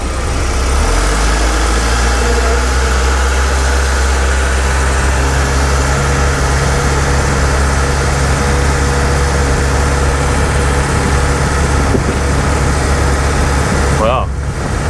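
A 1989 Winnebago LeSharo RV engine idles steadily and close by, a low continuous rumble with a constant hum that runs throughout, ending with a brief clatter near the end.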